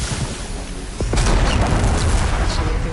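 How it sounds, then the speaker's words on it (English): A bomb detonates in Horizon Forbidden West amid machines, a deep booming blast that swells after a quiet moment and rumbles on loudly. "Time to drop that bomb."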